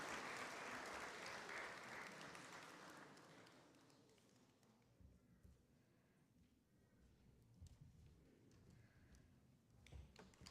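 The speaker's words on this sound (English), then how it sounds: "Let's give a round of applause to Rinchen Selden." Audience applause for an award recipient at a youth forum ceremony, a broad wash of clapping that starts loud and full, then thins and fades to scattered claps over the back half.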